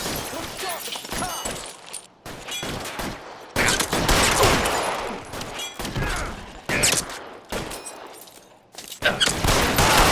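A shootout in the L.A. Noire video game, with loud bursts of gunfire separated by short silent gaps across ten seconds and little talking.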